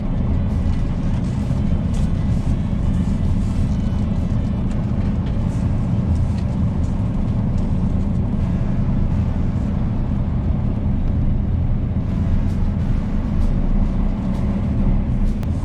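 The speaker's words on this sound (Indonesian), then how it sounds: "Di lintasan berair Mercedes-Benz Aroc 2536 cus." A Mercedes-Benz Arocs 2536L 6x2 truck driving on a wet test track, producing a continuous loud, low engine rumble mixed with road and water noise that stays steady throughout.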